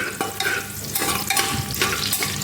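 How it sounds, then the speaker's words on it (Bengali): Chopped onion fries in hot soybean oil inside a pressure cooker, giving a steady close sizzle with a few sharper scraping stirs and clicks through the whole stretch. "আমি 1 মিনিট ভেজে নিচ্ছি পেঁয়াজটাকে"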